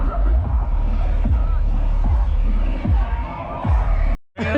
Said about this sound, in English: That's the crowd that's trying to get into the festival from the campsite.